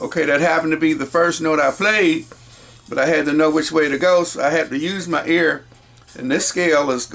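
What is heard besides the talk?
No everyday noise stands out behind the speech.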